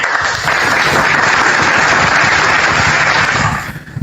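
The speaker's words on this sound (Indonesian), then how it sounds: "Tepuk tangan buat narasumber kita." Audience at a discussion program applauding the guests, dense clapping rising quickly, holding loud for a few seconds, then fading out.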